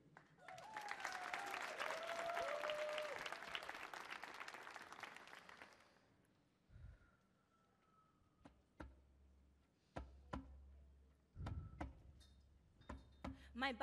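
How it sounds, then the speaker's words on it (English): An audience at the Kennedy Center's Millennium Stage gives a warm burst of applause for the Words Beats Life poetry ensemble, swelling for several seconds and then dying away into a quiet hall broken by scattered taps and knocks. "Give a round of applause for Ishmael Reeves, Alpha Scholarship winner Francis, along with Kosi, Alexa,"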